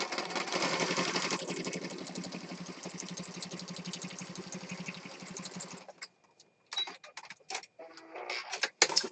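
A sewing machine stitches through paper on a mixed media piece, running steadily and loudly for about six seconds, then breaking into short bursts of stitching separated by pauses.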